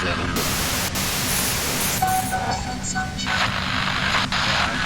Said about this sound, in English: Her voice trails off into white noise in your head.